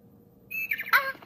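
Bird calls from the Talking Tom mobile game: a few short, bright chirping notes, the loudest near the end, standing alone over a faint low background hum.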